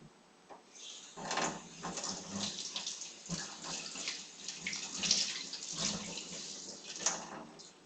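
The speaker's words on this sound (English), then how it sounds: "what happens when you wash your hands without soap" Hands are washed without soap under a running tap at a sink, a soft, fairly faint splashing and gurgling stream that swells and eases as the hands move through the water, with no talk.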